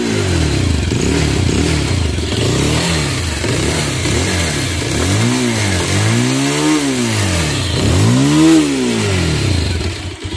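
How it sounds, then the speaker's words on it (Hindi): A Bajaj Pulsar 220F motorcycle exhaust revving close by, loud throttle blips rising and falling repeatedly over a steady idle, with deeper, longer revs toward the end. "एग्जॉस्ट नोट आपन थोड़े एग्जॉस्ट नोट शुणी नियंतु सो हियर वी गो"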